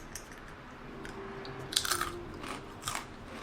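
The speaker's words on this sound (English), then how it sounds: "They have a really good crunch. They're really crunchy." Crunchy homemade zero-waste cheez-it crackers are bitten and chewed up close, giving several crisp crunches in a quiet kitchen with no talking.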